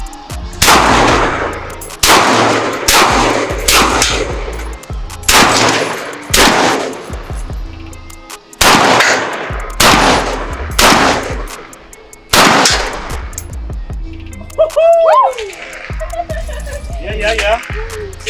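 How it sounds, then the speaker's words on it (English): Micro Draco pistol shooting outdoors: loud, close bursts of rapid gunfire in several strings, with people talking in the brief gaps between volleys. "And then go ahead and do rapid fire."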